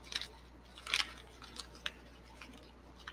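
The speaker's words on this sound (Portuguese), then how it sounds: "Vamos pegar também a folha e você vai amassar a folha, fazer uma bolinha" A sheet of paper is crumpled by hand into a tight ball, giving faint, scattered crackles and rustles in a quiet room with no talking.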